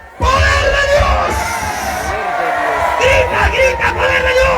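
A church congregation in Ayacucho shouts "poder de Dios" in unison, a loud, sustained mass of yelling voices that fills the whole stretch.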